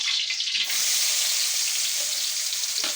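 Onions dropped into hot cooking oil burst into a loud, steady, hissing sizzle that starts abruptly and fills the rest of the clip close up.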